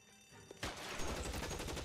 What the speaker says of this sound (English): The iconic Cole Phelps Tommy gun.